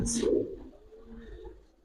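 A single female pigeon coos softly at a loft, a brief low murmur after a sharp opening rustle, faint and close.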